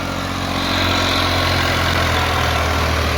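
A Massey Ferguson TAFE 30 DI tractor engine chugs steadily at close range, its low diesel rumble holding constant and growing slightly louder after the first second, with no voices.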